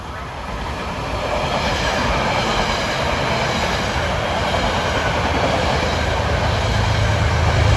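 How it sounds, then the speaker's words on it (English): A Metro-North train to Poughkeepsie, New York, rushes past with a broad roar of wheels and rails that builds and stays loud and close for several seconds. "Comes a Poughkeepsie, New York train."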